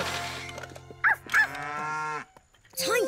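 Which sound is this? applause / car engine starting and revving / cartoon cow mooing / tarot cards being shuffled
cartoon cow mooing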